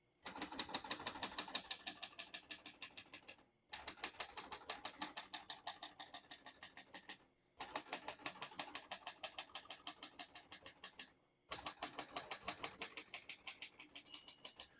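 Rapid clacking keystrokes of a 1948 Royal Quiet De Luxe manual portable typewriter in four bursts, each line of typing ending in a brief pause before the next.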